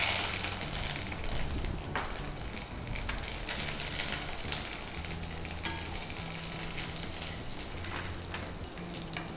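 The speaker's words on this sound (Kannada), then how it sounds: "ಈಗ ಸಿಡಿತಾ ಇದೆ, ಈಗ ಇದು ಆಯಿತು ಅಂತ ಸಾಸಿವೆ ಸಿಡಿಬೇಕು." Mustard seeds splutter in hot oil for a tempering, with a constant hissing sizzle and scattered small pops and crackles close by.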